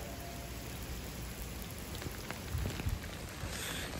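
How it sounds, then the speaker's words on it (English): Steady heavy rain pours down in a dense, continuous hiss during an early-morning thunderstorm, with a few louder drips and splashes standing out near the end. "it's a downpour"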